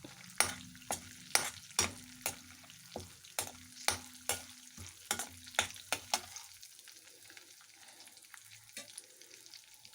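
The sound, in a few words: dried red chillies frying in oil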